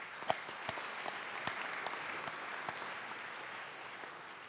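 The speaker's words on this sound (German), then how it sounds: "Aber erstmal noch mal ein Applaus" At a conference on digital, ecological farming, an audience applauds with steady, moderately faint clapping and scattered sharper individual claps, fading slightly toward the end.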